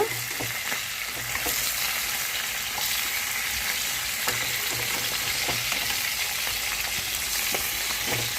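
Eggs and dried ribbon fish fry in a pan with a steady, bright hiss of oil, punctuated by soft rhythmic scraping and stirring strokes, close and continuous without any talk.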